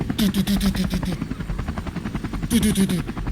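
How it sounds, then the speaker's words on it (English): Helicopter sound effects from a morning show segment: a chopping rotor thump pulsing in two bursts with a gap between, loud and close, mixed with a faint background voice. "There's the helicopter sound effects."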